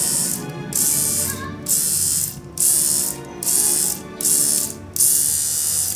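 Andis AGR hair clipper switched on and off repeatedly, six bursts of a loud, close buzzing motor hum separated by short silent gaps.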